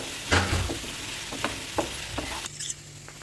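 Stuffed ridge gourd fries in oil with a gentle sizzle, broken by a few scraping stirs and light clinks, close and quiet, with no one talking.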